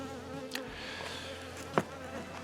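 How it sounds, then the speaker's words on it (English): A bee buzzes close by at a homestead, a steady droning whine that rises and fades as it circles near the microphone, with one sharp click partway through and no talking. "Y'all hear this bee is not wanting to leave me alone."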